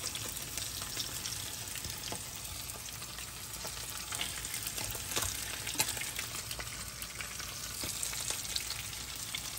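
Carrot pieces deep-frying in oil in a pan after flounder, with asparagus just taken out, make a soft, constant hiss dotted with tiny crackles, steady and fairly quiet.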